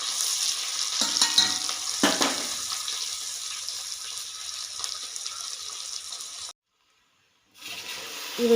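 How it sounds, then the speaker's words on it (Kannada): Chopped onions fry in hot oil, making a loud, steady crackling sizzle with occasional stirring scrapes. The sound cuts out briefly near the end and then returns. "ಹಚ್ಚಿಟ್ಕೊಂಡಿರೋ ಈರುಳ್ಳಿನ ಹಾಕ್ಕೊಂಡು ಫ್ರೈ ಮಾಡ್ಕೋಬೇಕು"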